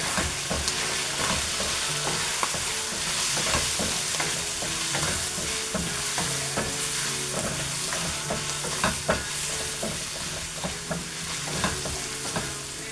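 Pork adobo in garlic vinegar stirred in a sizzling pan, with a steady frying hiss and repeated scrapes and clinks of the spoon running through the whole stretch, close and fairly loud.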